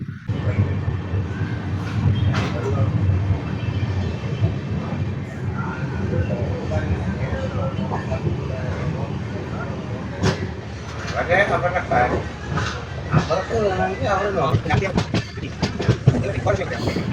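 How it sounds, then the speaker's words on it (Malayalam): A train leaving Kayamkulam station rumbles along steadily with a wheel clatter that becomes stronger and more rattling toward the end, and a voice talks over much of it. "അങ്ങനെ നമ്മുടെ ട്രെയിൻ കായംകുളത്ത് നിന്നും പുറപ്പെട്ടിരിക്കുകയാണ്"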